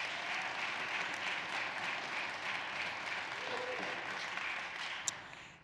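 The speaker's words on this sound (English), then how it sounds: "Please give her a nice round of applause." Rally audience at a National Girls & Women in Sports Day event in Nevada applauding steadily for a champion swimmer, a dense, even wash of clapping that holds throughout, with faint voices mixed in.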